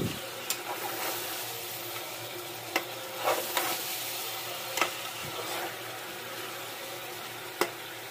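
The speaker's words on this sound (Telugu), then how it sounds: "ఇలా ఫ్రై చేస్తూ ఉన్నప్పుడు చికెన్ లో నుంచి వాటర్ వచ్చి ఇవన్నీ కూడా ఇంకిపోయే వరకు ఫ్రై చేసుకోవాలి" Country chicken sizzles and fries with spices in a pan, a steady close crackle with occasional scrapes and clinks of a spoon stirring, no voices.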